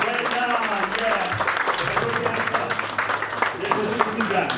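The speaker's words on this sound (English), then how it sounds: "Please clap for sir and give him prize." An audience applauds at a banking quiz competition semi-final, with a dense, continuous wash of clapping carrying across the clip, moderately loud, with a voice mixed in underneath.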